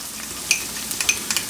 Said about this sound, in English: Give this guy a nice little stir.